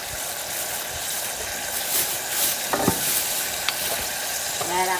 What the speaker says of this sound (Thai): ขั่วเนาะเอาน้ำมันหมูนี่แหละพี่น้อง